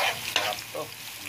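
Ginger frying in a hot pan for sinigang sa miso with salmon belly gives a steady close sizzle with a short louder burst near the start, then a softer, even crackle.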